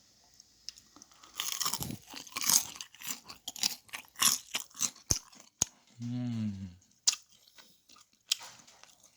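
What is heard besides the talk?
biting crunchy fried chicken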